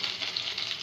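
Curry leaves sizzle in hot oil in a kadai, giving a steady, close, hissing fry that does not stop and has no voices over it.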